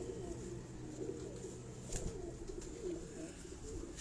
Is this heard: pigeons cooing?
yes